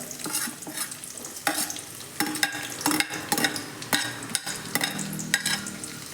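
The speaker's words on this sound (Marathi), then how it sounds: "आता आपलं तेल गरम झालेलं आहे बऱ्यापैकी तर यामध्ये आपण कांदा भाजायला घेऊयात" Onion frying in hot oil for an egg masala, with a steady close sizzle broken by repeated scraping stirs of a spatula in the pan.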